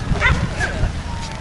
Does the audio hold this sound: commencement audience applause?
no